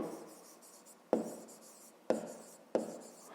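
Pen or pencil writes a digit by hand on paper during a fifth-grade math exercise, giving soft scratchy strokes with a few sharp taps, faint and close, no talking.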